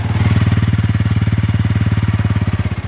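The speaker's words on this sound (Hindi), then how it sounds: "तो चलिए अब इन दोनों बाइक के जो एग्जॉस्ट नोट है वो भी आपको करा देता हूँ।" A Bajaj Pulsar motorcycle with an underbelly exhaust idles close by, a loud, steady low thumping pulse with even rapid beats and no voices over it.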